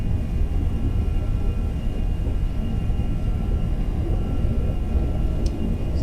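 Airliner engines at takeoff thrust in a flight simulator, a steady deep roar with a faint high whine, loud and unbroken throughout.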